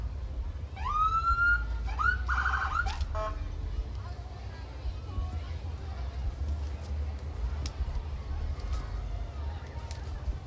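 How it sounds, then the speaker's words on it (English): Emergency vehicle sirens wail briefly at a Christmas parade in Kannapolis, rising and falling for a couple of seconds before fading into a steady crowd and traffic rumble. "Got some more sirens coming up."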